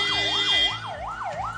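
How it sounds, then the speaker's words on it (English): An ambulance siren blares on a road while the ambulance stands stopped for a ministerial convoy to pass. The wail rises and falls steadily, loud and close, over faint traffic noise, with no talking. "The siren blaring ambulance stopped on the road while the cavalcade of the minister passed by."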